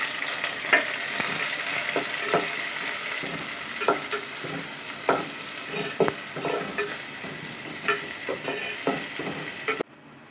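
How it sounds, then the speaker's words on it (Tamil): Onions sizzling in hot oil, a steady frying hiss broken by repeated scrapes and clatters of a spoon stirring the pan, close up. "நறுக்கி வச்ச ரெண்டு வெங்காயம் ஆட் பண்ணிக்கிறேன்"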